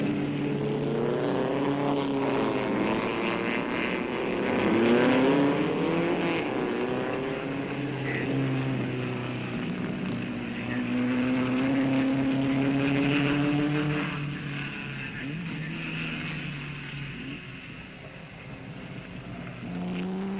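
Aston Martin and Ferrari race cars lapping a circuit, their engines roaring as a near, continuous drone whose pitch climbs and falls through gear changes and passes, without talk.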